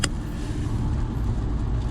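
A BMW F30 320i drives past on a wet road with a steady low rumble and a continuous hiss of tires, heard up close with no talking.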